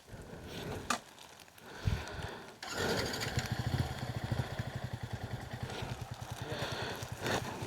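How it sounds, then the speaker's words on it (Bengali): A motorcycle engine putters and revs close by on a rough new road in Bandarban as riders help push a bike across, with a rapid rhythmic chug that keeps running after a brief cut near the start. "ভাই টিপুর বাইকটা পার করে দিতেছে হেল্প করতেছে"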